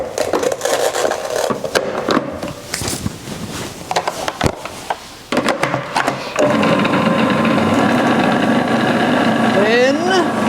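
A blender whizzes banana bread batter made with caster sugar. After some clattering and talk, the motor kicks in as a loud, steady whir that runs unbroken to the end.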